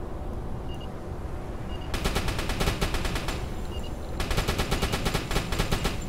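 Rapid bursts of machine-gun fire in the submarine game Uboat, two long rattling volleys of evenly spaced shots over a constant low rumble, loud and close.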